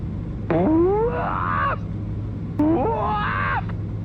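A voice imitates a Bigfoot holler: two long, rising whooping howls, loud and close, separated by a short pause.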